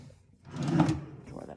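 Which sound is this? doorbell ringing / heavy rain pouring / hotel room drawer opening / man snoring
hotel room drawer opening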